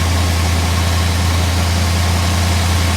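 A 1956 Ford Thunderbird engine with a fuel leak idles while warming up, a loud, steady, low rumble close by with no talking.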